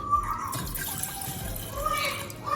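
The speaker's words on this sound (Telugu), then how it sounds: "మనం 1 గ్లాస్ ఆఫ్ వాటర్ పోసుకోవాలండి" Water is poured into a glass bowl to start a kashayam immunity drink, a soft, continuous near trickle and splash with faint tonal ringing behind it.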